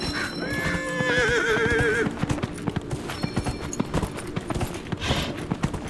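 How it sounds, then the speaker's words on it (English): A horse in Dragon Age: Inquisition whinnies loudly with a wavering neigh, then hooves clip-clop in a quick, steady rhythm close by. "Here's my horse."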